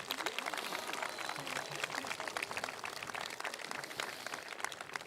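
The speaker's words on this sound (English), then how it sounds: "Let's have another round of applause for our students." A graduation audience gives the students a round of applause, a steady patter of many hands clapping at moderate distance, continuous for about five seconds.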